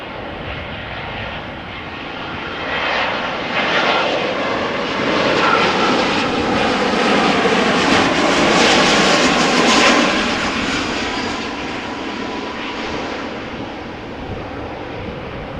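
A jet airliner comes in to land on runway 06 at Amsterdam Schiphol Airport in gusty wind. Its loud, broad engine roar swells toward the middle and fades a little as it passes, with nothing else heard over it.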